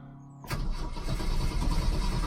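A car engine cranks on a jump box and fires after a short quiet moment, then roars loudly and settles into a rough, close idle after sitting unused.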